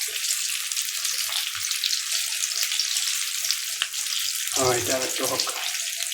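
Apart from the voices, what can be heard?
samosas frying in hot olive oil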